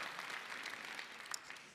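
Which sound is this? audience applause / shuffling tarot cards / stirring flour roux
audience applause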